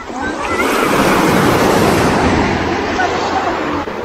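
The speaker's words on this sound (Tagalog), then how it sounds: "napakalakas yung alon" Strong ocean waves crash and roar continuously on a beach at Pantukan, Davao, a loud, broadband wash of surf with some wind buffeting the microphone, sustained throughout.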